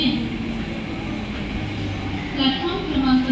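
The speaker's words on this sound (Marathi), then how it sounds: "मुंबई छत्रपति शिवाजी महाराज टर्मिनस जाने वाली ही लोकल है।" A Mumbai slow local train bound for CSMT sits at a station platform, with a low rumbling hum and clanking under station chatter and voices.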